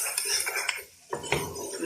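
Broken wheat roasting in a pan with chicken, stirred by a metal spoon: clattering scrapes against the pan, a brief lull midway, then more scraping, no talk.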